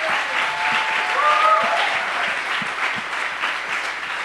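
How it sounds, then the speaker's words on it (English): A large audience at an event gives the volunteers a big round of applause, a loud, sustained roar of many hands clapping that stays full and steady, with a few whoops rising above it. "let's give all the volunteers a huge round of applause"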